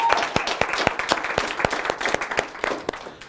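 Audience applauding Linda Clemens at a business event, a dense burst of many hands clapping loudly and steadily for a few seconds, with no talk over it.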